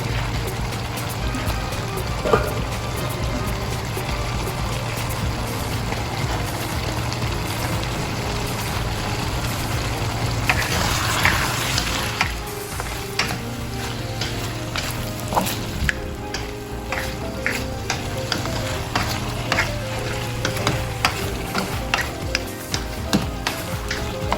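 Filipino Visayan-style adobo sizzles and fries in olive oil in a pan, a steady crackling hiss broken by scraping stirs and clatters of the utensil, with no one talking.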